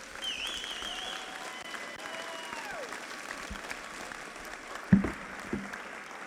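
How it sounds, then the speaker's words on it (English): Steady applause from a middle school awards ceremony audience, a moderate continuous patter with a brief voice and a couple of louder bumps near the end. "Give them a round of applause"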